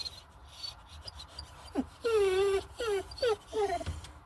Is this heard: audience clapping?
no